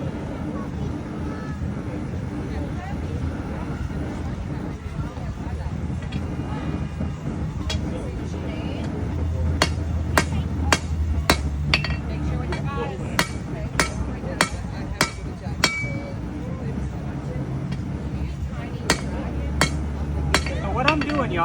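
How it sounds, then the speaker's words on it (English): At an outdoor market, a blacksmith hammers steel on an anvil with a rounded hammer, sending out sharp ringing strikes in irregular bursts over a low rumble of traffic, and people talk throughout. "I use this rounded part of this hammer and the rounded edge of the anvil, and I make it push the steel out"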